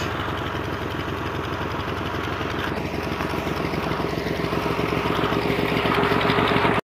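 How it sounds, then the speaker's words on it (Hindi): Tractor engine pulling debris and waste wood, a steady close diesel chug with even rhythmic pulsing that holds for several seconds before stopping abruptly. "उसको खींचना है गाड़ी की मदद से, ट्रैक्टर की मदद से"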